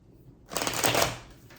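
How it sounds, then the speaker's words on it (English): A single quick riffle of tarot cards being shuffled, a crisp flutter that rises after a brief quiet moment and then trails off. "let me get a few more shuffles in"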